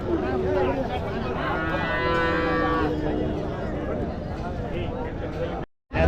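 Local cattle low and moo amid the busy crowd at the Matrapalli cattle market, a thick wash of voices and bustle under the animals, with a brief drop to near silence just before the end.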